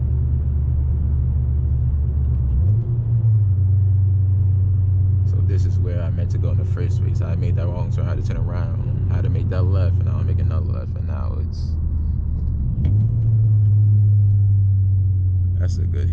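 A 2017 Honda Accord drives along with a steady low engine rumble and road drone, its pitch rising briefly as the engine revs on downshifts, while someone talks over it for much of the time.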